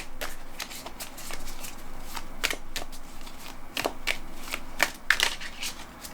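Tarot cards shuffled and drawn by hand, a run of crisp riffling flutters and quick slaps spread unevenly across the stretch, close up with no talk.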